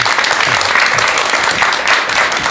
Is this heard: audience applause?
yes